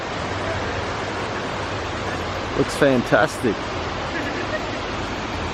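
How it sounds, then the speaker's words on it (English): A small waterfall at a mountain viewpoint in Karnataka, India, heard as a steady broadband rush of falling water that fills the whole clip, with a brief spoken remark in the middle. "Even got a bit of a waterfall down here."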